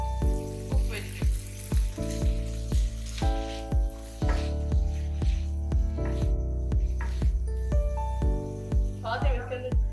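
Cooked vegetables hitting a hot pan for a chicken vegetable macaroni, giving a steady sizzle and frying hiss, with a rhythmic tapping of stirring throughout and a background music track.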